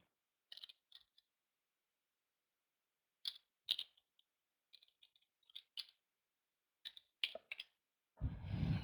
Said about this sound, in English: we type our password